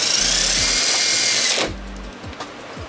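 A power drill whines in two short bursts as it drives screws into a Dodge Charger wide body kit, the second burst ending with a few faint clicks and taps.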